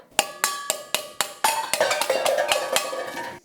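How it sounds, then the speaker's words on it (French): Metal saucepans falling to the floor as a sound effect: a quick series of bright clanging hits, then a dense jangling clatter of pans ringing and rattling together before stopping abruptly. "Elle fait tomber des casseroles."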